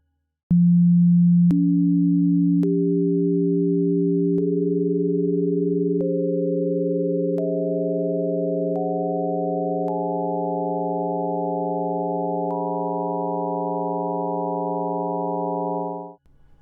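A pure sine-wave solfeggio scale of steady electronic tones steps upward, each new note entering with a faint click and layering over the held earlier ones, loud and continuous with no voices.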